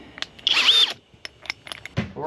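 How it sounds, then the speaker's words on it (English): Cordless drill with a step bit drilling out a knockout in an electrical box: a short whirring burst, then small mechanical clicks and taps, with a voice starting at the end. "We're gonna go ahead and drill out this knockout here."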